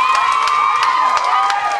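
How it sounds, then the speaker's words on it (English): A crowd cheers and whoops over a steady wash of applause, with bright shouts and whistles rising above the clapping throughout. "So let's give Crystal one more big round of applause."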